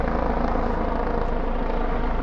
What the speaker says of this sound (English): You might hear a helicopter circling.